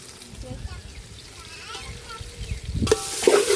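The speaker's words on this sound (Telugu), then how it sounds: "ఇంకా చికెన్ ఫ్రై కూడా చేస్తున్నామండి" Chicken fries with masala in a pan, a soft continuous sizzle under background talk that rises to louder stirring and spattering toward the end.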